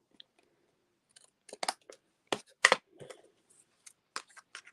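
Scissors trimming cardstock paper in short bursts of crisp snips and cuts, close and isolated against near silence, with a few sharper closing clicks spaced irregularly.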